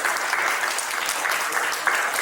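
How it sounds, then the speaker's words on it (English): Audience applause for the winners of the Rajasthan Innovation Quiz at an event in Jaipur, a steady dense clapping that holds at an even level for a couple of seconds. "round of applause for our winners of the Rajasthan Innovation Quiz"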